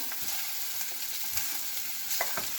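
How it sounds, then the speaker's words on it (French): Beef meatballs frying in a pan, a close, even crackling sizzle with a few soft pops and shuffles, no voices over it. "On les met dans la poêle et on les cuit suivant comment on les aime"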